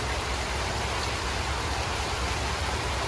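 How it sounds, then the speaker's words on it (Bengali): Rain pouring down on a stormy day, a dense, even wash of drops hitting surfaces close by, steady and unbroken with no voices. "যেরকম বৃষ্টি চাইছি সেরকম এই বৃষ্টি হয়েছে।"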